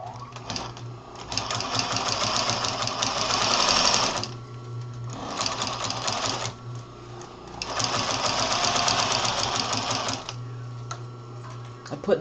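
A sewing machine sews Velcro onto the gusset of a messenger bag in three long steady runs separated by short pauses, close and moderately loud, with a low hum underneath.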